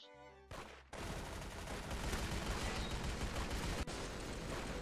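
Dense, continuous gunfire from the Roblox-style shooter game Arsenal, a loud rapid fusillade of shots running nearly unbroken after a brief opening burst, with no talk over it.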